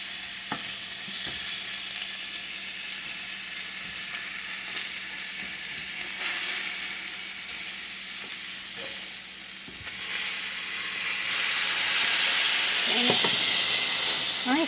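Food frying on a small cast iron griddle, a steady close sizzle with occasional scraping and clinks, swelling into a louder hiss toward the end.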